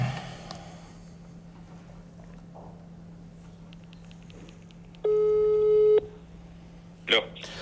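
A telephone line tone during a call placed live on an Albanian TV show sounds as a single steady beep lasting about a second. Studio talk and room noise run around it.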